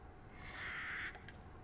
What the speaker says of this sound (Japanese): カラスがたくさんいる。